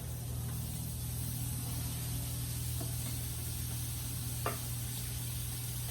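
Mushroom mixture for a mushroom and ricotta sandwich sizzles steadily on a hot grill, a constant close hiss with a low hum beneath and a couple of faint tong clicks.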